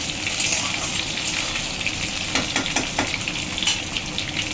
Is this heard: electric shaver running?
no